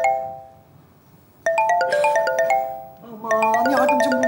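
A phone rings on a comedy stage, a melodic electronic ringtone playing repeated bright tone phrases in two bursts after a quieter opening, loud and close with no talk over it.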